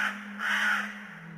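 A crow gives two harsh caws close by, the second longer and louder, against a quiet background with a low steady hum.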